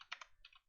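Quick burst of keys tapped on a computer keyboard, three or four light clicks close up, quiet and without talk.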